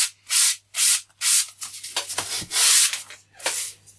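A sanding block rubs back and forth across a foam glider wing core on a table, giving loud rhythmic rasping strokes, about a stroke every half second, with a few quicker shorter passes in the middle.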